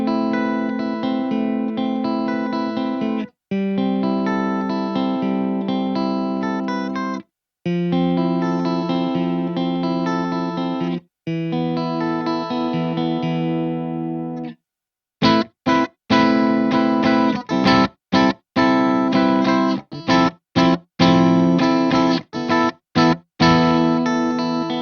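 Clean electric guitar played through a 5150 Iconic EL34 amplifier, with sustained ringing chords and effects shimmer, followed by choppier, rhythmically cut strums and brief gaps, loud and close with no talking.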